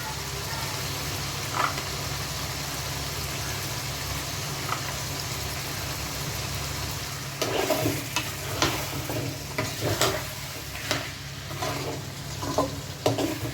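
Potatoes and mutton stir-fried in a pan: a steady frying hiss over a low hum, then from the midpoint repeated scraping clacks of a spatula against the pan, close and fairly loud.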